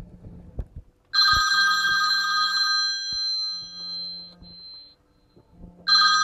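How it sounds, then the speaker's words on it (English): Incoming phone call from a paired iPhone ringing through the audio system of an Audi A6 car, a clear electronic ring tone sounding in two bursts with a short gap between them. "There's a phone call coming in, I'll just ignore it."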